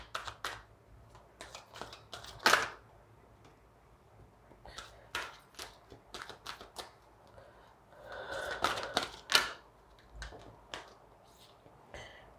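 Tarot cards being shifted and laid out on a surface, heard as faint, close papery slides, taps and short shuffling rustles in irregular bursts.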